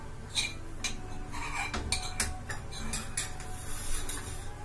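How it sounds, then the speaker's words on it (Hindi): Dishes and utensils clink and clatter steadily in a home kitchen as they are set down to soak, with repeated sharp metallic knocks close by and no talking. "तो ये बर्तन वगैरह भिगो देती हूँ"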